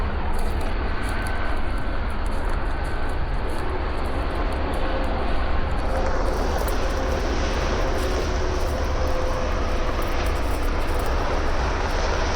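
Helicopter flying overhead in the sky above South Willard, Utah, a continuous low rumbling drone that stays fairly faint and steady for several seconds, with no talking.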